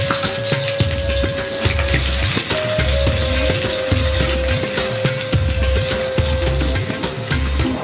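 Onions fry in hot oil in an iron wok with a continuous sizzle, steady and close, under a repeating low rhythmic thumping.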